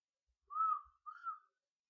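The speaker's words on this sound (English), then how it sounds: "Sorry for the whistle" A person whistles two short, clear tones with a brief pause between them, faint and alone in an otherwise quiet room.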